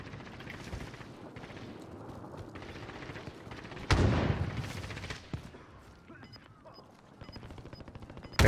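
Gunfire in a video game battle, scattered shots under a low rumble, then a loud burst of firing midway before fading back to quieter background noise.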